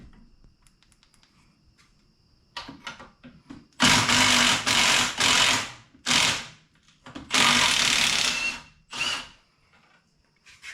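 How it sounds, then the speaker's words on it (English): Power tool, likely an impact driver or drill, loosening a bolt on a BMW E46, running in several loud bursts of roughly a second each with short pauses between, close by and alone after some light clicking and handling. "I'll loosen that bolt up a little bit more, maybe that'll make it easy."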